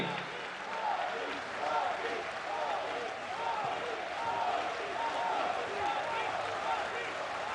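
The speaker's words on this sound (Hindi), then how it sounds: "आप सभी अपने स्थान पे खड़े होकर तालियों के साथ उनका स्वागत करें।" A large standing audience applauds to welcome Prime Minister Modi at the Surat Diamond Bourse inauguration, a continuous broad wash of clapping and crowd noise with murmuring voices mixed in.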